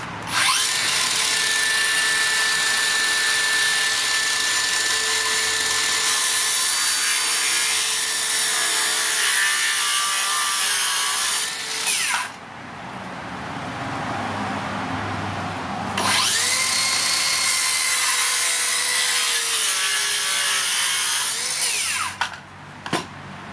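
A loud Makita 40V cordless circular saw whines through wood in two long cuts, separated by a brief lower rumble as the blade spins between passes.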